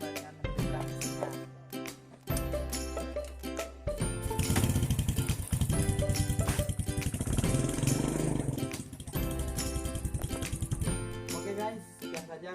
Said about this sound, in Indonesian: Kita coba dengan menghidupkan mesinnya.